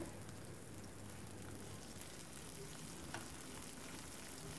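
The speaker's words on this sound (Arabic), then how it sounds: "هنايا غادي ندير البصله ديالي تقلى" Onion fries in a pan for a chicken breast gratin, giving a steady, soft, crackling sizzle throughout with no talk.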